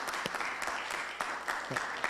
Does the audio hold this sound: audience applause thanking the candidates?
yes